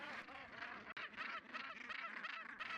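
A large northern gannet nesting colony calling: a dense chorus of harsh, rasping, overlapping cackles from many birds, continuous and fairly close, with no talking.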